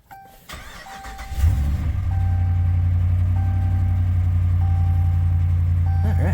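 A 2013 Ram 1500 pickup engine cranks and catches after repairs to its purge valve and fuel line pressure sensor, then settles into a strong, steady idle while a dashboard chime beeps repeatedly at regular intervals.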